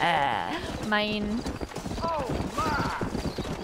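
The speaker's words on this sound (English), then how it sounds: "Come here, horse." Horse hooves clip-clopping in Red Dead Redemption, a steady rhythmic clatter under someone talking, with a horse whinny partway through.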